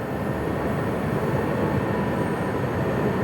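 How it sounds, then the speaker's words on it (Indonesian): A KRL commuter train pulls in at Lampuyangan station in a steady, loud rumble of wheels and carriage noise that holds level throughout, with no voices over it. "Lola, itu kereta Siri Tanjung."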